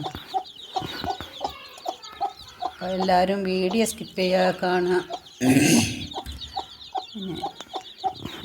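Several chickens of assorted breeds cluck and call in a farmyard, with repeated short bursts near and far and a brief flurry midway, while a person talks over them.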